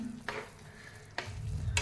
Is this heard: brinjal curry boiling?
yes